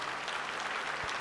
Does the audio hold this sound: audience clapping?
yes